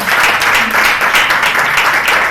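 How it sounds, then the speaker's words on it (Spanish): A church congregation bursts into dense, sustained applause, many hands clapping together loudly and evenly for a couple of seconds. "Un aplauso a Cristo"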